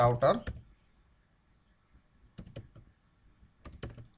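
Router configuration commands for BGP between Cisco and Mikrotik routers are typed on a computer keyboard in short bursts of close key clicks, following a brief spoken phrase, with quiet gaps between the bursts.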